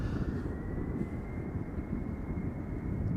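A fixed-wing aircraft roars on departure from the Polderbaan runway at Schiphol Airport, a steady, heavy engine rumble with light wind buffeting the microphone and no speech.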